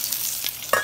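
Coral mushrooms (ramaria) frying in a pan on medium heat, a steady close sizzle throughout with a louder burst of crackling near the end.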